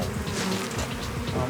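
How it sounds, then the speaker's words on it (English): A swarm of killer bees buzzes steadily and close throughout, a dense droning hum with shifting tones from many wings, with no talk over it. "The smoke worked well on these bees to calm them down."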